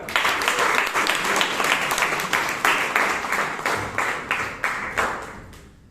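Loud, close applause rises from a Toastmasters meeting audience, brisk rhythmic clapping with pulsing surges that gradually fade toward the close.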